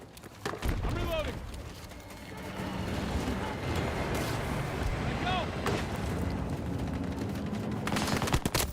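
Video game gunfire in bursts of shots over a continuous loud action-game soundscape, with a player talking over it.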